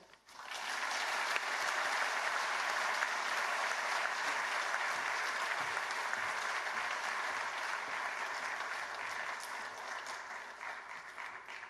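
A large audience at the Mahatma Gandhi Institute in Moka, Mauritius gives loud, sustained applause to welcome the President of India on stage, a dense even roar of clapping that holds steady before tapering slightly at the end.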